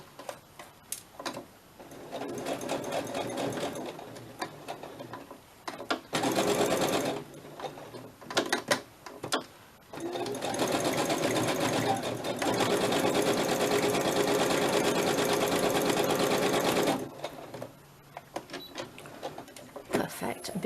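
A sewing machine straight-stitching scrap fabric pieces for butterflies and hearts, running in long, steady, loud whirring stretches broken by short pauses where a voice speaks.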